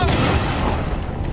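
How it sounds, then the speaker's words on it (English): An impact grenade going off in Rainbow Six Extraction, a single loud, close boom with a rumbling low-end tail that fades over about a second. "Impact grenade out!"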